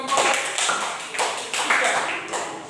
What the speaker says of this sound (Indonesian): tepuk tangan yang meriah buat kelompok